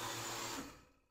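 A dairy milking machine's suction hums and hisses steadily up close, then quickly winds down and fades out as it stops.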